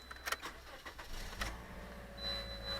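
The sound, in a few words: car engine starting up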